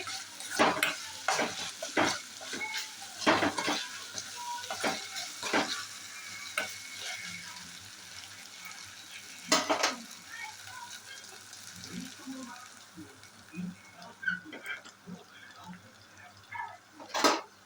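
Ginger garlic paste frying in hot oil for a small-prawn curry, a soft steady sizzle under repeated stirring clinks and scrapes against the pot, busiest early on and then quieter.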